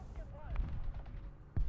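Gunfire striking a Marder A1 tank in War Thunder, with a few heavy low booms and impacts over a rumbling battle bed, the loudest hit arriving near the end, while tonal engine or whistle sounds drift faintly above.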